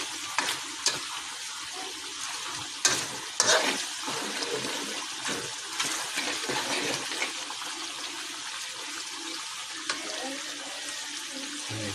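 Angus beef stew bubbles in a pot, a steady low bubbling and simmering hiss with a few louder pops and clinks scattered throughout.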